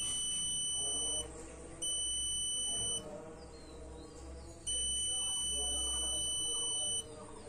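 A multimeter beeps for continuity while probing a short on the VPH line of a Redmi 5A phone board. Three long, steady, shrill beeps with short gaps between them sound over a faint low background murmur.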